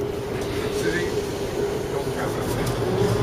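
A train on the Tamar Valley line in Devon passing close by, a steady rumbling roar with faint rail clatter, while people talk nearby.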